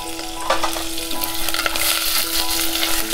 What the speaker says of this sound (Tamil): ஜீரகம் போடுறேன் கடுகு வெடிச்சிடுத்து